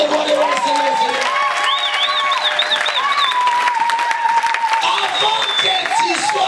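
A church congregation at a worship service in Caen claps and acclaims, dense sustained applause mixed with raised voices, whoops and sung or shouted cries throughout.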